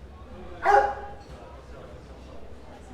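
A single short dog bark rings out in a street in Bayonne's town center in French Basque country, sharp and fairly close over quiet street ambience.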